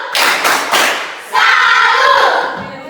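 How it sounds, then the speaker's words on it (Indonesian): A class performs the tepuk salut clap routine together: a few sharp group claps and thumps in rhythm, a brief pause, then a burst of massed clapping mixed with excited voices, close and loud. "Kita beri tepuk salut dulu"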